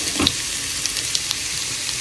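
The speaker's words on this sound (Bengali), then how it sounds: "এখানে ফোড়নটা গরম হয়ে গেছে, এর মধ্যে দিয়ে দিচ্ছি আলু আর" Potato and kohlrabi dropped into hot spiced oil, frying with a loud close sizzle and a few stirring scrapes, steady throughout and no voices.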